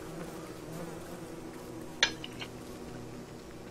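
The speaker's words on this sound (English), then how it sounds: "Fuck off, bees." Bees in Don't Starve Together buzz in a steady, low, quiet drone, with one sharp clink near the middle and a couple of fainter taps after it.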